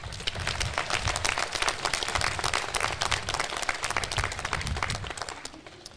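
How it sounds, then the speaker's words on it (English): Crowd applause at a college commencement ceremony: a sustained wash of many hands clapping at moderate distance, fading slightly toward the end. "please give them another round of applause"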